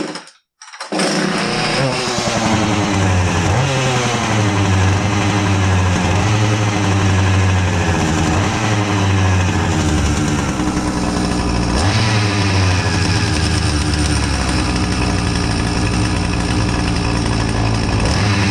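A Husqvarna 450 chainsaw with an oiling fault starts up and runs steadily at high revs for the whole stretch, a loud, close, buzzing engine drone with no talk over it.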